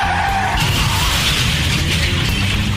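A pickup truck skids hard as a deer leaps in front of it, a loud, sustained screech of tires over a roaring engine, heard as a radio-ad sound effect.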